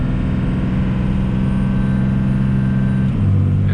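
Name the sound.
Cummins 24v diesel truck engine revving under throttle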